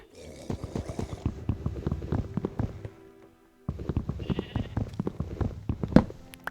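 Steady rhythmic clicking and tapping runs through Minecraft gameplay, with a short silence midway, then resumes; a faint sheep bleat sits among the clicks.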